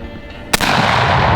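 A Blackwater Sentry 12 shotgun fires a Dragon's Breath round: one sharp, loud blast, followed at once by a sustained roaring hiss that fills the rest of the moment.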